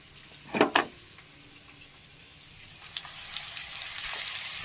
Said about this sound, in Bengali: আলু ভাজা ভেজে নিচ্ছি